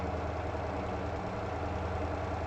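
A truck engine idling at low revs in comfort mode in the MotorTown driving game, a steady, loud, low rumble with a regular pulsing throb and no talking.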